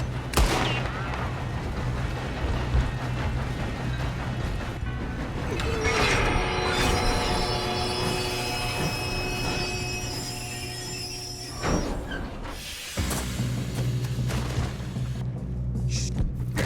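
A moving train during a robbery in the video game Red Dead Redemption 2: a steady, loud rumble and clatter with sustained hums and a brief break partway through, and occasional sharp impacts mixed in.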